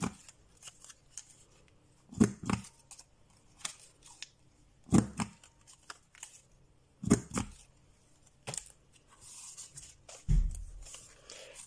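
Scissors snip through paper to round off two corners, giving a few short, crisp cutting bursts spaced a couple of seconds apart, close and fairly quiet with no talk.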